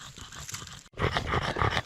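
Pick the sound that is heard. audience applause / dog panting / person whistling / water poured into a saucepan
dog panting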